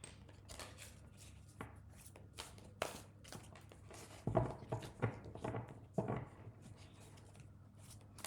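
Tarot cards are shuffled by hand, giving faint, irregular soft taps and flutters close by, with scattered clusters of slapping card sounds and no talking.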